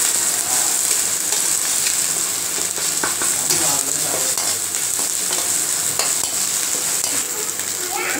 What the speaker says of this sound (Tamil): 1 ஸ்பூன் இஞ்சி பூண்டு பேஸ்ட்டு போட்டுக்கலாம். அதையும் இந்த எண்ணெயிலே நல்லா வதக்கலாம்.